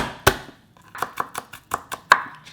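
Knife chopping garlic and green onion on a cutting board: one sharp strike, a pause, then a quick run of about seven evenly spaced close chops, crisp and alone.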